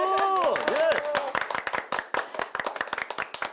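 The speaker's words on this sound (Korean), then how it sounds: "와, 박수!" Sharp hand claps from a small group in a Korean church parent-education class, starting under a cheerful voice and breaking into a rapid, uneven burst of individual claps close by.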